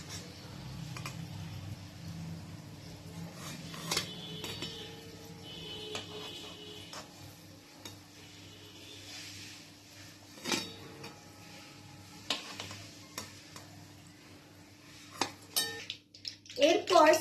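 Fried Maggi snacks are lifted from the pan onto a plate, with metal utensils clinking and scraping against cookware in scattered close knocks and taps, under faint frying hiss.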